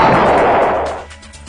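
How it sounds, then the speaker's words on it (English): A Shofixti ship's kamikaze bomb goes off in the space combat of the video game Ur-Quan Masters. It is one loud, roaring blast that holds for most of a second and then trails off into a faint tail. "remember you've got a kamikaze bomb on board."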